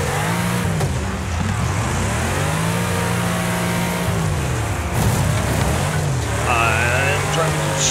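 A car engine revs and wavers in the demolition racing game Wreckfest, rising and falling in repeated surges with other engines around, while a voice talks over it.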